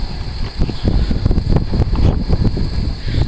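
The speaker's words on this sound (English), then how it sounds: "Sorry, it's kind of windy out here." Wind gusts buffet a microphone outdoors beside a classic 1978 truck, producing a loud, continuous low rumble with irregular thumps and no speech.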